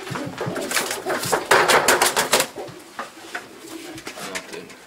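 Pigeons coo in a loft, with several birds producing repeated throaty, rolling calls that cluster loudly midway and then thin out, close to the microphone.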